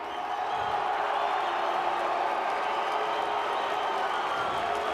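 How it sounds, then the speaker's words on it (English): Crowd applause for George St. Pierre at a UFC event, a sustained wash of clapping heard from a distance at low level, holding steady for several seconds with a faint murmur of voices mixed in. "Big round of applause, please, for George St."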